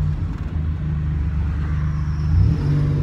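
A Buick Grand National turbo car accelerates through its gears, its engine a loud, close, steady rumbling drone that rises slightly in pitch near the end.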